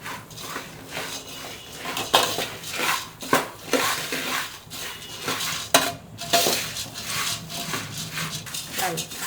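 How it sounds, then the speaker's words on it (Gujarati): Puffed rice tossed with salt and chilli powder in a pan over a low gas flame, giving steady scraping and clinking of a spoon against metal, with louder knocks and rattles every second or so, close up. "હવે બધું સરસ મિક્સ કરી લેવાનું છે."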